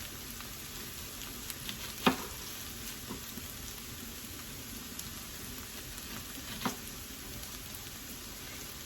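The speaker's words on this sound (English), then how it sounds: "just let those start to cook and maybe turn brown a little bit" Mixed vegetables fry quietly in a pan, a soft steady sizzle with two brief clinks or taps of a utensil and no speech.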